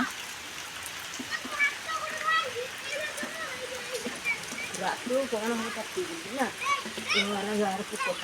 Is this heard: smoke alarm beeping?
no